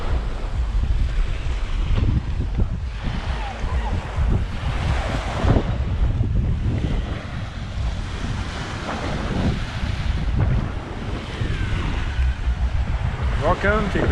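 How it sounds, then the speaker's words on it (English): Wind gusts and breaking ocean surf fill a beach on Grand Cayman on an overcast, very windy day, the roar of waves steady and close with heavy wind buffeting the microphone throughout. "Albeit a very windy day here in overcast."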